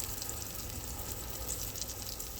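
Meat frying in butter in a pan, a steady close sizzle and crackle with fine spitting bursts throughout, no talking.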